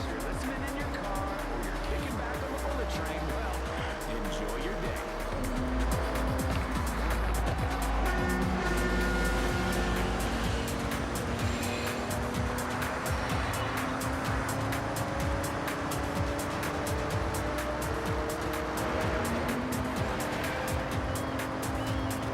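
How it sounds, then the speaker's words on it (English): Racing cars in the video game Forza Horizon 6 roar continuously at full throttle, engines droning and shifting pitch with tire noise and other cars passing, loud and steady throughout. "I feel like I'm going flat out, and yet I'm not catching up to these other cars."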